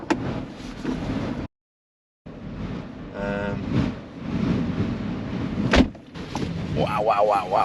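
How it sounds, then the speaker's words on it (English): Strong wind roars and buffets a microphone outdoors on Scotland's NC500 route, as a steady broadband rush with gusty swells, cut by a brief dropout, a door clunk and a voice talking over it. "Never felt wind like it"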